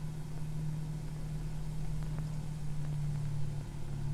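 A simulated aircraft engine in the Prepar3D flight simulator on a Heathrow to Gatwick flight gives a steady low droning hum, even and unbroken, with no talking.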